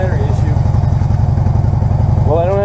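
A Harley-Davidson motorcycle engine running at idle, a loud close, steady pulsing rumble throughout, with a voice speaking briefly over it near the end.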